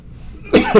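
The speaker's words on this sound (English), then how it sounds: "Just got a lot of dust, so it's making me cough." A single close cough, sharp and breathy, after a moment of quiet room tone.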